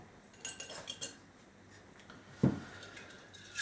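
Small portions of pine nuts tipped into a glass jar of vodka, giving quiet, scattered clinks and taps against the glass with one louder knock, close and faint.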